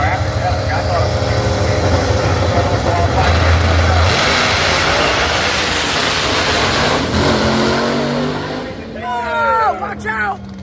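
A drag racing car making a run down the strip at a PDRA event at Maryland International Raceway, a loud sustained engine roar filling the clip, with commentators talking over it toward the end.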